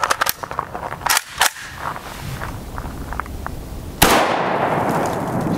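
Rifle fire from a 10-inch M85 PAP shooting 5.56x45mm Black Hills TSX rounds, with several sharp cracks early on, a few softer impacts after them and one heavy report near the end.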